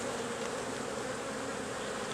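Honey bees drone densely around an opened hive during a September inspection, a continuous close-up buzzing with no pauses.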